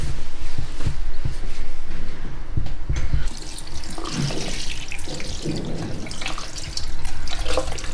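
Water runs continuously from a tap into a sink during a hair wash at an Indian barber shop, a steady close rushing and splashing that shifts slightly as the flow is moved around.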